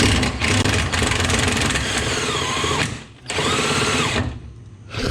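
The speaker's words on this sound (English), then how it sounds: "The bolt's just spinning" A power tool whirs against a bolt that spins freely while the engine is removed from a Honda Civic road race car. A close, loud, high whine runs in bursts with two short pauses.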